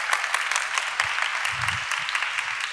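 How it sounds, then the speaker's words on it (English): Applause from an audience at an opening keynote on cleantech markets: steady, moderate clapping from many people, with faint low talk underneath. "Please stand up and give them an applause too."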